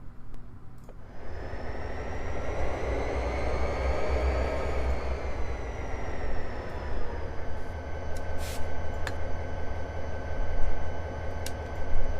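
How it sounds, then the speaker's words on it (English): An SD40T-2 diesel locomotive in Train Simulator 2014 drones steadily as it pulls out of a rail yard, a loud continuous engine hum with rising tones and faint clicks near the end. "we're just cruising out of the train yard"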